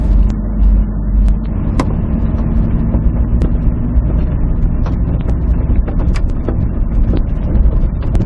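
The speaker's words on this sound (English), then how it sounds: "I gotta go kind of slow on this little bumpy road here" A car creeps slowly along a bumpy road, its steady engine and road rumble joined by frequent sharp knocks and rattles from the uneven surface, with wind buffeting the microphone.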